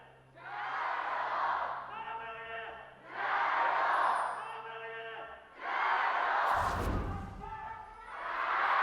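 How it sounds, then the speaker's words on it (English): A full-capacity crowd in an esports arena at a League of Legends LPL match between Team WE and Invictus Gaming swells in repeated loud roars and cheers, rising and falling in waves, with a low thump near the end. "Full capacity crowd here."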